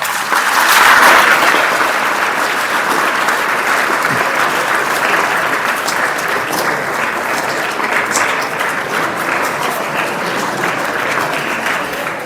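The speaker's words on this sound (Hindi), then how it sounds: "ताली बजा दो।" An audience applauding, with dense, steady clapping that stays loud and even for the whole stretch and swells slightly at the start.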